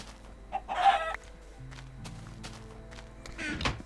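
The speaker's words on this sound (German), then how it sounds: "schwarz-weißes blödes Huhn." A black and white chicken in Minecraft gives a couple of short, clear clucks, one early and one at the end, over a faint low in-game hum.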